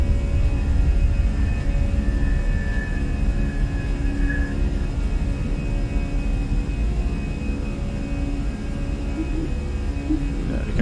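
An Airbus A320 airliner's engines roar in a steady, broad rumble as it climbs after takeoff in a flight simulator, with a faint whining tone over the drone and no voices.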